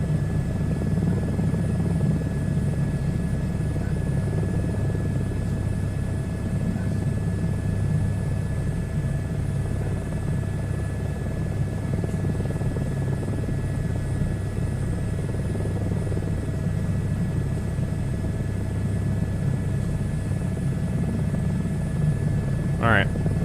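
A helicopter in Microsoft Flight Simulator 2024 drones steadily with a loud, continuous rotor and engine roar that holds for the full length. No one speaks over it.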